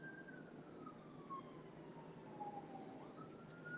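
A faint, distant siren wails with a slow, falling tone over steady low background noise, with no voices.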